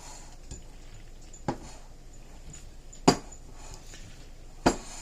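A spoon works through a bowl of macaroni fruit salad with raisins, giving three or four sharp clinks against the bowl over a soft, low scraping, close and without any voices.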